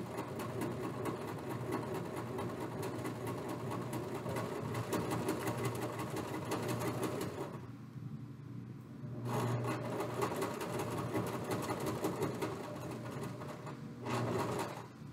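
A sewing machine runs steadily while stitching a 1/4 inch seam, a dense mechanical whir that stops briefly twice as the needle pivots at corners, then resumes at close range with no talking.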